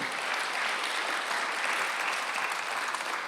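A church congregation claps during a Sunday worship service at Jesus-Centered Church, a steady, dense wash of hands that holds evenly and loudly for the whole stretch with no voice over it.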